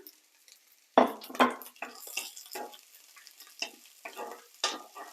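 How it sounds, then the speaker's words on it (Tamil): Long-cut green chillies drop into a pan where curry leaves and garlic are already frying. A sharp sizzle bursts up, then a utensil stirs and clatters against the pan in several short, uneven strokes. "பச்சை மிளகாய் இப்படி நீளமாக வெட்டி வச்சிருக்கிறேன் இதை வந்து இதுக்கு போடுறேன்"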